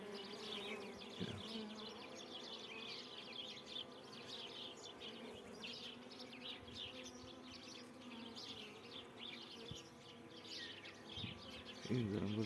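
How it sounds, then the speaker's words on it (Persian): Honeybees hum and buzz steadily inside a hive as a newly born bee emerges, a dense close drone that continues without a break, with a faint knock near the end. "زنبور در حال تولد."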